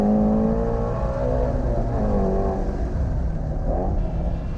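A Ford Mustang Shelby GT350 accelerating hard on a race track toward the main straight, its engine note droning and rising steadily, loud and sustained with no voices.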